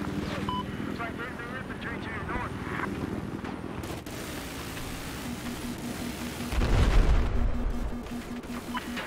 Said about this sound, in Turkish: Helikopter gelmiş.